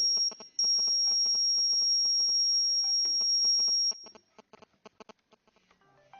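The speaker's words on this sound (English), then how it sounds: "my mobile was beeping" A continuous high electronic beep from a mobile phone SMS alert triggered by an Arduino project sounds for several seconds, then stops, leaving faint clicks and taps.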